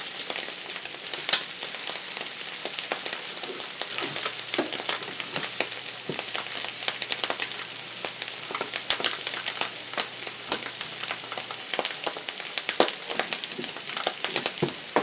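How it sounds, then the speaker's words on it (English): Eggs fry in a pan with a little butter, crackling and popping steadily up close for the whole stretch, with no voices. "getting ready to flip these eggs, and you can see they're just slipping around in the pan"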